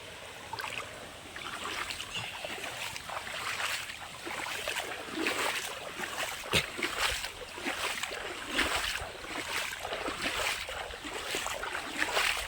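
Water runs along a small village irrigation canal, a continuous close rushing and gurgling that swells and dips slightly, with no talking over it.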